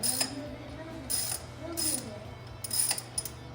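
Ratchet wrench cranking down thermostat housing bolts on a very cold engine, heard as short bursts of clicking pawl strokes separated by brief pauses, close and fairly quiet.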